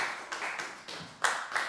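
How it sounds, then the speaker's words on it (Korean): A church congregation claps during a Sunday service, a few loose rounds of hand claps, fairly faint and uneven, with a stronger burst near the end. "박수 한번 치도록 하겠습니다"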